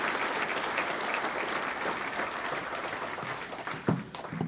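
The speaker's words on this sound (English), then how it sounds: "these guys deserve the biggest round of applause ever" Sustained applause from an audience at a sports presentation night fills the room, steady and dense throughout, with a louder burst near the end and a voice faintly underneath.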